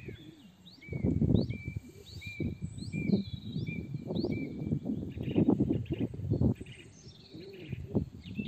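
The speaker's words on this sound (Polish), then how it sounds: "Ptaki." Several birds sing and chirp in quiet countryside, with clear repeated whistled calls over a soft, uneven low background rumble and no one talking.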